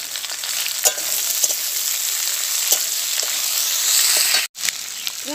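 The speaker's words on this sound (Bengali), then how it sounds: "এবার আমি এর মধ্যে দিয়ে দিলাম কুঁদরিগুলো। কুঁদরিগুলো দিয়েও আমি 2 মিনিট ভেজে নেব।" Ivy gourd and potato pieces fry in an oiled pan with a steady, close sizzle, broken by a few faint stirring clicks and a brief dropout near the end.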